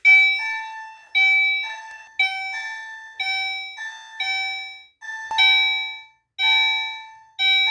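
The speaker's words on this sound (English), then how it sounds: "It's kind of loud for a chime" A fire alarm chime, set off by testing a 2151 detector with a magnet, rings in loud, repeated two-tone bell strikes at a steady rhythm, each ringing out briefly before the next, with no talking over it.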